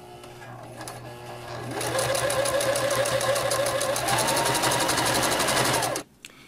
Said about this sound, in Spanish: ya lo voy a meter aquí debajo del prensatela. Comienzo a coser